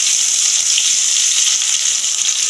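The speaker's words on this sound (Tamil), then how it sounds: "சோம்பு பட்டை கிராம்புலாம் பொரிஞ்சோன்னே கருவேப்பிலை சேர்த்துக்கோங்க" Curry leaves sizzle in hot oil alongside fennel, cinnamon and cloves for a mushroom kulambu: a loud, steady, bright crackling hiss that holds unbroken throughout, with no one talking.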